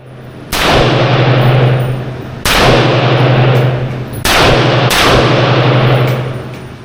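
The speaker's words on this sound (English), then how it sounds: "I shot a SIG P320 Spectre pistol, a Beretta PMXS, and an Avtomat Kalashnikova assault rifle, better known as an AK-47." Three loud, sharp gunshots from a SIG P320 Spectre pistol, Beretta PMXS and AK-47 rifle at a shooting range in Belgrade, evenly spaced, each with a long ringing decay over a steady low hum.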